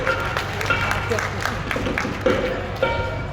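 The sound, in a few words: audience clapping for a woman at a village fair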